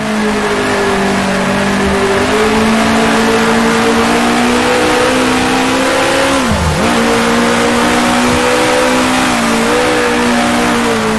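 A Gurney Eagle race car in Grand Prix Legends, set at the 1966 Dutch Grand Prix, drones loudly and steadily after a downshift to third gear, its engine note holding close and constant with a brief dip in pitch midway.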